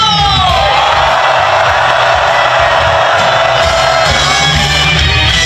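A protest crowd at an anti-Yoon Suk Yeol rally in South Korea raises a loud, sustained roar of shouting and cheering, dense and continuous for several seconds with no single voice standing out.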